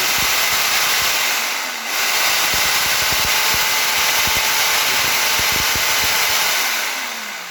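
A rotary hammer drill locked into continuous mode runs steadily and loudly, a dense whirring motor roar with a brief dip near the start and a rhythmic hammering pulse underneath.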